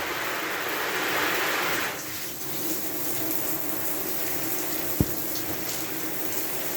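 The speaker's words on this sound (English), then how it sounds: "Let's say about right here we have water going." Tap water runs steadily into a sink while parts of a Lasko 16-inch oscillating pedestal fan are washed, a broad continuous hiss that dips briefly partway through, with a single sharp knock near the end.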